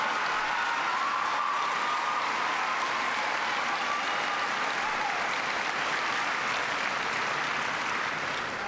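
Applause from a town hall audience in Tampa during a political event, a dense, steady clapping from a large crowd that stays loud throughout without any talk over it.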